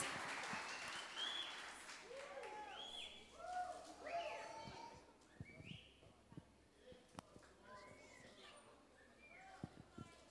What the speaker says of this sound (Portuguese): vamos dar uma salva de palmas, gente, para esses dois guerreiros aqui que venceram